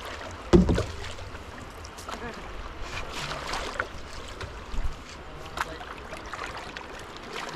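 Canoe heading into a river rapid on a wilderness expedition, with steady rushing water and wind noise, a couple of paddle knocks and splashes, and faint voices in the background.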